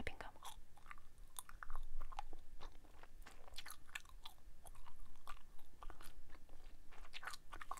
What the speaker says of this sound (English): this is a good snapping gum